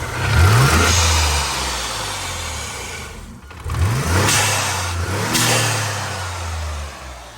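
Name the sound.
twin-turbo car engine revving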